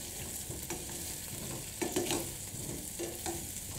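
A spoon stirs potato chips dressed with lime juice as they sizzle and fry in a pan, with soft scraping and clinking over a steady crackle, close and fairly quiet.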